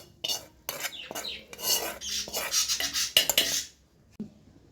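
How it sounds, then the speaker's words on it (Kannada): Fried masala for Mangalore-style mackerel curry being scraped from a pan into a mixer jar, with repeated close rasping scrapes and metal clinks of a spoon against cookware, in short irregular bursts. "ಫ್ರೈ ಆದ ತಕ್ಷಣ ನಾವು ಮಿಕ್ಸಿ ಜಾರಿಗೆ ಹಾಕುವ"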